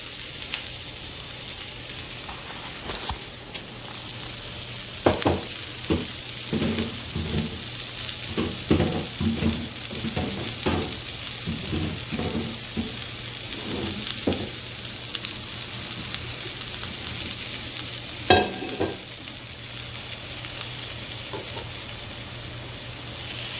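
Pork tenders sauté in a pan with a continuous hiss and sizzle, broken by scattered bursts of stirring and utensil scrapes, close and moderately loud with no talking.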